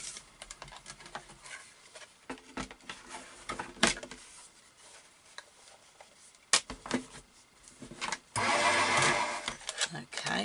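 A Gemini electric die-cutting machine running as a card decoration passes through, preceded by scattered handling clicks and rustles, then a loud steady mechanical grind for the last couple of seconds.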